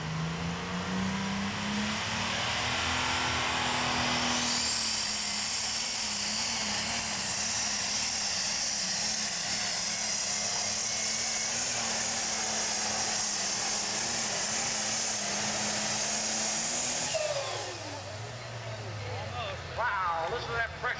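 A super stock pulling tractor at the Mt. Gilead, Ohio OSTPA pull roars at full power, loud and close, with a rising high whine that holds for over ten seconds before easing off. Crowd noise and talk follow.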